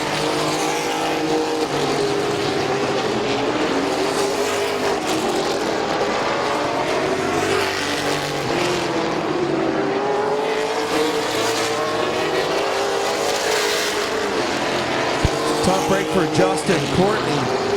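Race trucks roaring around a short-track speedway, a loud continuous wall of engine noise with shifting pitch as the trucks pass, while an announcer calls the action over it.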